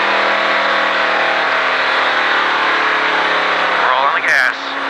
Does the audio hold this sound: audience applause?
no